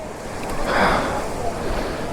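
Rapur waterfall at Siddeswara Kona gives off a broad, washing roar of water that swells briefly, mixed with some wind rumble.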